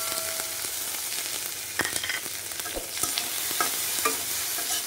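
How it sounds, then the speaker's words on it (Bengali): Prawns frying in mustard oil with turmeric, a steady close sizzle broken by scraping stirs and soft clinks as the pieces are turned in the pan, with no voices. "এটা ভালো করে আমি ভেজে নেব"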